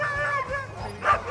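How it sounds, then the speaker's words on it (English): Sled dogs yip and bark excitedly before a dog sledding run, a quick burst of overlapping near, loud calls lasting only a moment. "Here we go. Dog sledding."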